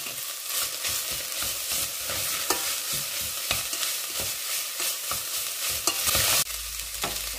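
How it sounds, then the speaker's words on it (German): Tomato paste sizzles and spits steadily in a hot pan while a utensil scrapes and stirs in quick repeated strokes, close up. "Auch noch mal kurz mit anbraten."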